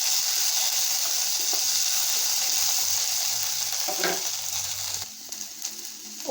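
Onion, green chili and curry leaves sizzle steadily in hot oil while being stirred for a beetroot and pea poriyal, with a loud continuous fry and occasional scraping, easing slightly toward the end.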